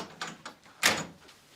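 A door handled in a house: a few soft knocks or rattles, then one sharper thud or clack as it moves, fairly close and quiet, with no talk.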